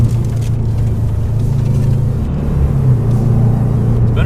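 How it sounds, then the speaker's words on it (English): A 2006 Subaru STI fitted with a COBB turboback exhaust pulls hard from inside the cabin, its loud, steady engine drone holding low and rising slightly mid-run, with no talking. "You kind of forget how fun it is to just get up there and feel the turbo spool"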